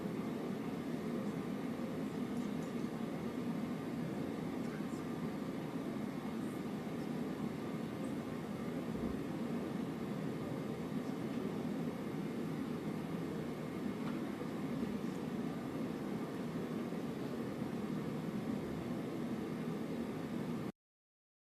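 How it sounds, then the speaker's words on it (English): Steady broadband white noise fills a courtroom, a constant, even hiss with a low rumble beneath it, unbroken for about twenty seconds and not masked by any voices. "as I was being rudely interrupted by the white noise"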